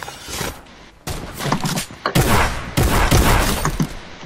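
Video game gunfire erupts in loud, dense bursts of rapid shots with brief gaps, close and harsh, sniper fire in a shooter match.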